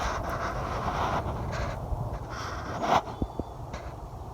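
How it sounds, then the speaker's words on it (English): Crows caw outdoors in open country, a few harsh calls at moderate distance over a steady low background rumble, with other faint birdsong around them. "Listen to all the birds."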